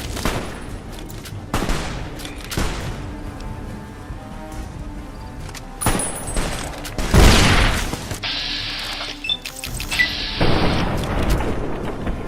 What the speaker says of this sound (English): Hit him with a flashbang